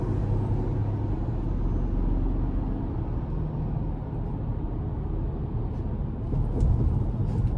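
A 2026 Ford Ranger Lariat FX4 in sport mode accelerates onto an interstate, heard from inside the cab as a loud, steady engine and road rumble that builds slightly toward the end, with no talking.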